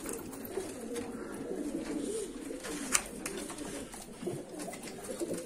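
Pigeons in a poultry coop coo softly and repeatedly against a faint background hum, with an occasional brief flutter or knock and no talk.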